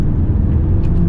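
A 2024 Peugeot 508 facelift saloon, 180 horsepower, pulls hard in third gear while overtaking, a loud, steady low engine and road rumble heard from inside the cabin, with no talking.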